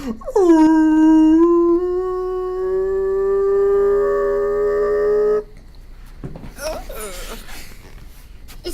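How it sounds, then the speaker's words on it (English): A monster's long, loud howl played during a tabletop role-playing session, a single drawn-out wailing tone lasting about five seconds, then cutting off into fainter muffled noise and background chatter. "The thing in front of you lets out this terrible howling"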